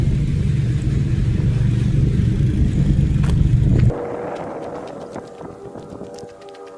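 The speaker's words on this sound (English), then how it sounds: "lawnmower right there" A lawnmower runs outside, a loud, steady, close engine drone that drops away sharply partway through, leaving a quieter, thinner background with faint intermittent chirps.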